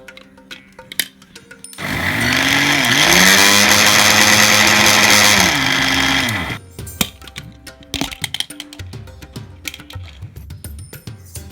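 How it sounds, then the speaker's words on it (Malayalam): A mixer grinder briefly pulses rice-based avalose podi to a coarse powder, a loud steady motor whir with a rising pitch that runs about five seconds, then stops, followed by faint clinks and handling noises. "ചെറിയ രീതിയിലൊന്ന് അടിച്ചെടുത്താൽ മതി, വല്ലാതെ പൊടിയരുത്."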